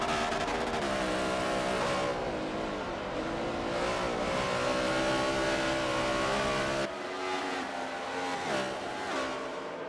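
NASCAR-style race cars in a sim racing game at Sonoma roar continuously at high revs, engines rising and falling as they run side by side through corners, loud and steady throughout.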